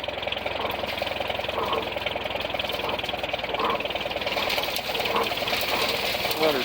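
A Blizzard silage chopper driven by a belt spins up with a steady rapid mechanical clatter and whir under an idling engine, heard at moderate distance with people talking nearby.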